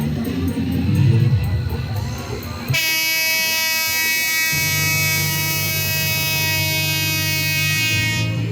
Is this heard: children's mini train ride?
yes